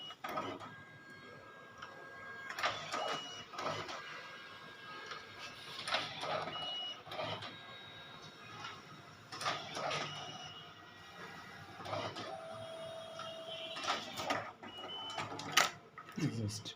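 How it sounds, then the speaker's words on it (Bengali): An Evolis Primacy 2 PVC card printer feeds and prints a card in a series of short mechanical whirs, clicks and motor bursts, with a voice talking quietly in between. "ওকে দেওয়ার পরে প্রিন্টিংটা সে নিয়ে নিল"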